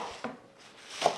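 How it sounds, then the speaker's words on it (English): A knife roughly chops fresh chives, giving two or three soft, quiet cuts spaced apart against a hushed background. "so I'm just roughly chopping them."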